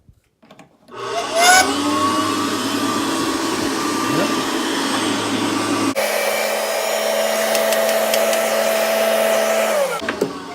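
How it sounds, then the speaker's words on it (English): An old cast iron electric hand dryer with a porcelain coating runs with a steady loud blower roar and motor hum, switching to a slightly different pitch midway before cutting off near the end. "I've never seen a hand dryer that old."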